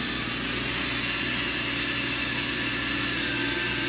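Walter Helitronic Mini Power CNC tool cutter grinder with its spindle steadily whining while winding down in speed, a continuous high-pitched tone over broadband machine hum, heard alone without voices.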